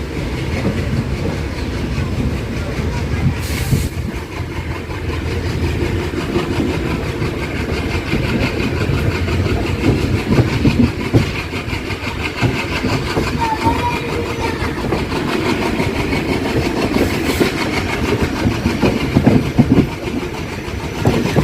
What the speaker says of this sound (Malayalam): കൊല്ലത്തുനിന്ന് ട്രെയിൻ ഡിപ്പാർട്ട് ചെയ്തോട്ടാ